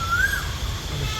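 A single rising whistled call of an Asian koel rings out briefly over a low steady rumble, just after rain stops in Bengaluru.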